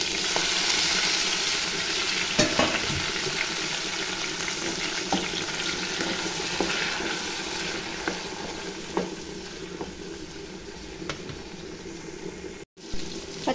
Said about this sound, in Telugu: ఇప్పుడు జీలకర్ర, కరివేపాకు కూడా వేసేద్దాం. అలాగే టమాటాలు కూడా కలిపి వేయించేసుకుందాం.